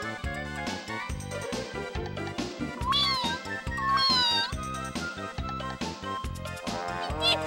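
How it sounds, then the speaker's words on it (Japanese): A wildcat kitten in the PS2 game Raimuiro Senkitan Jun meows a few times in short rising and falling cries over rhythmic background game music. "山猫の 子供です。"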